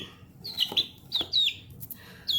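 Young hens cluck and chirp in short, high-pitched bursts, several calls close by in a quick, uneven sequence with no talking.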